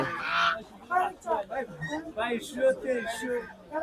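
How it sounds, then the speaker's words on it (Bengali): Large Chinese geese honk in short, nasal bursts at a busy poultry market, close and loud, mixed with people talking nearby. "এই যে এখানে দেখুন বড় বড় চীনা হাঁস"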